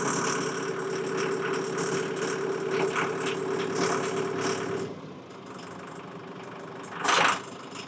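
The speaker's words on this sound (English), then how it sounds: "That engine is a really strong engine. 4-cylinder diesel." A four-cylinder diesel Mahindra tractor engine idles with a steady, knocking rumble, then settles quieter after a few seconds; a brief hiss bursts near the end.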